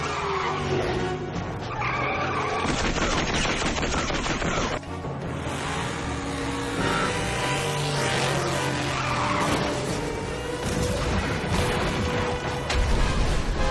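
Race cars in a death race skid and squeal their tyres continuously, with loud, roaring engines, screeching rubber and mechanical clatter filling the whole stretch, close and intense throughout.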